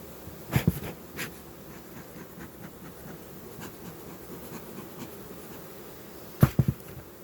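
Honeybees in the hive of a captured swarm hum low and steady at close range, broken by a few sharp scrapes and knocks near the start and end.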